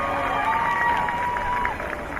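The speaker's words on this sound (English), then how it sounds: "Great to hear support from the local crowd." A local crowd at a beach IRB rescue-boat race finish cheers and whistles, loud and sustained, with shrill tones rising above the general roar.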